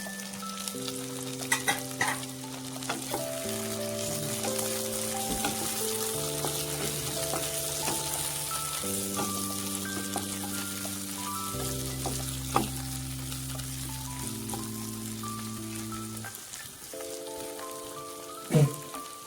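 Tomatoes hit a hot pan of broccoli, carrot and capsicum stir fry, setting off a steady, crackling sizzle and occasional stirring scrapes under a soft background melody, with no voices.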